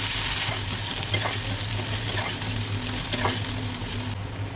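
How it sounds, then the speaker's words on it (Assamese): Onions and green chilies sizzle loudly and continuously in hot oil, with occasional scraping stirs, until the sound drops away abruptly at the end. "পিঁয়াজখিনি লাল হোৱালৈকে ভালদৰে ভাজিব লাগিব।"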